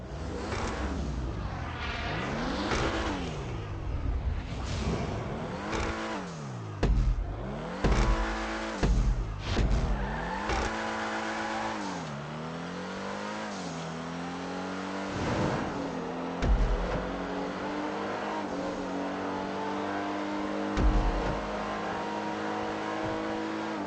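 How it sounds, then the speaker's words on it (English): Dewbauchee Specter exotic sports car in GTA Online, its engine revving repeatedly in rising and falling sweeps, loud and close, with sharp throttle blips between longer climbs and no voices. "This exotic sports car performs quite well really. She has reasonable acceleration."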